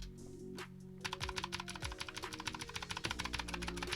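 A computer keyboard is typed on fast and hard, with dense clattering keystrokes that become a rapid, continuous burst after a short, quieter opening.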